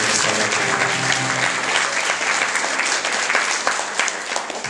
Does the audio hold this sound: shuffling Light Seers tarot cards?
no